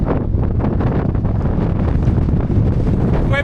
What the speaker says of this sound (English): We're pretty high up here, and the wind is back.